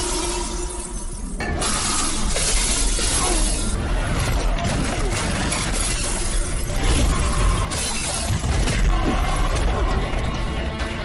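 Glass bottles smash repeatedly during a film fight scene, loud dense crashes and tinkling shards over a busy soundtrack with steady clatter throughout.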